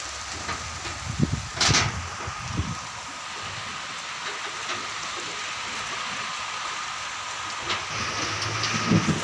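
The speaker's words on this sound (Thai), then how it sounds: "ฝนแรง พี่น้อง ความฝนมันแรงโอ้โหลมพายุ" Heavy rain pours steadily in a windstorm, with broadband hiss and a few louder gusts or bursts, lashing a durian orchard.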